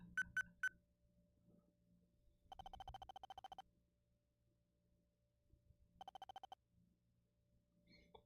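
Telephone keypad dialing in the Twin Peaks PS1 video game, quick separate beeps followed by two longer rapid bursts of tones, faint and clean, with no speech.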